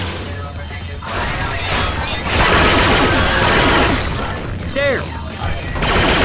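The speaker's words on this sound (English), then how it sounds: "Shotgun." Shotgun blasts and gunfire in the zombie shooter Left 4 Dead 2, loud and dense with crashing impacts and mechanical clatter, mixed with game voices and talk throughout.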